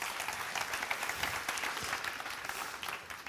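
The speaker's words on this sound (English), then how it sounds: "Please, guys, a big round of applause." Steady, dense clapping from a sizable crowd, sustained throughout without letting up.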